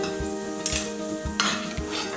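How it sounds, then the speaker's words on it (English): Potatoes cooked in smoked turkey broth being scooped into a ricer, with a steady hiss under a few soft regular thumps and two brief bright scrapes of the scoop. "we're just gonna take our potatoes and scoop them into our ricer"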